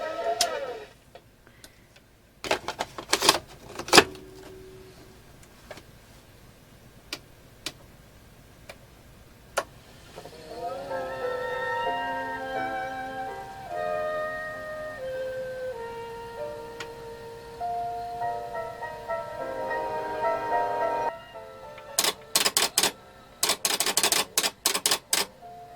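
Mechanical clicks and clunks from a vintage Zenith 8-track tape player mechanism, followed by faint music playing, then more rapid clicking near the end.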